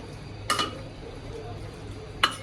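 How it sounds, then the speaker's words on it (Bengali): Chicken being stirred in a clay pot, two brief scraping clinks of a utensil against the pot separated by a quiet pause, faint kitchen hiss between. "নাড়িয়ে নেব"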